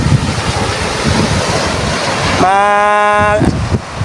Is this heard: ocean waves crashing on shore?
yes